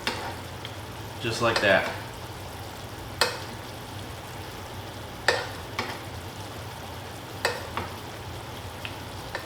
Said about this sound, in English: You just continue basting off of what you have inside before you have to flip.